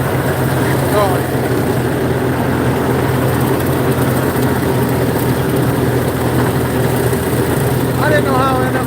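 An old-style tractor mows a field with a steady, loud engine drone that holds constant throughout, a low mechanical hum with faint higher whines drifting in now and then.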